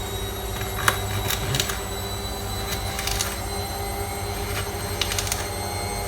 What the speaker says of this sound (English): you can't hear over the washing machine